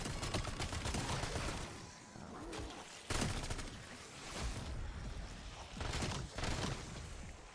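An MXR-17 rifle fitted with the ANVL conversion fires in slower, burst-like volleys in a video game, with loud, close cracks returning in clusters roughly every three seconds over a steady background din.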